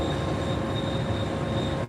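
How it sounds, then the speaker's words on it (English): Red Line subway train rolling steadily along the track, a continuous near rumble with faint wheel squeal and a steady whine, ending in a brief dropout. "So what the train is going to do is go along this set of track."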